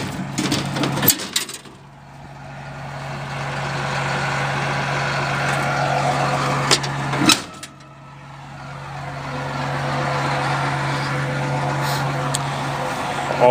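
The diesel engine of a 9520 tractor idles steadily close by at moderate loudness, with a couple of sharp clanks and a short break in the hum partway through.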